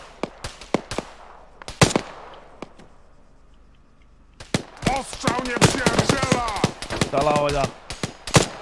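Rapid gunfire in a video game, sharp repeated bursts and single shots spread across the clip, loud and close, with two players talking over the later shots.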